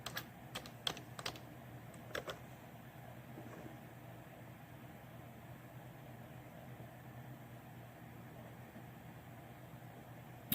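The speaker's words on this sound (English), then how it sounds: "I'm gonna type that shit twice." Typing on a computer keyboard: a few faint, brief keystroke clicks in the first two seconds, then only a steady low background hum.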